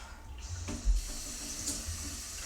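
Tap water runs into a measuring cup, about half a cup for a diced beef and pasta dish, a steady close hiss of flowing water with a small thump partway through and no talking.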